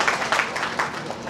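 A hall full of people applauds at an SC ST business summit and honour ceremony, quick uneven bursts of clapping at moderate volume with a faint murmur under it.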